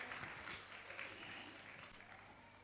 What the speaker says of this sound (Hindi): आपकी तालियां उन तक पहुंचे, उनका अभिनंदन करें।